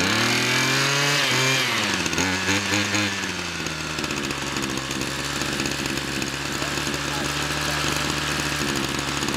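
A small engine cold starting on half choke runs loud and rough, its pitch wavering and dipping early before settling into a strained, uneven running drone that bogs throughout.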